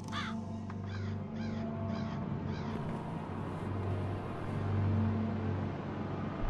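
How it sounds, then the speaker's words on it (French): A crow-like bird caws several times in quick succession over a dense, rumbling ambient drone in a psychological horror video game, the calls fairly close and rising above the steady background. "Encore un oiseau."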